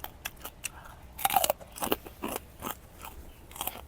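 Crunchy squid in a spicy Thai salad is chewed close up, giving a run of wet, crackling bites and crunches with brief pauses between them.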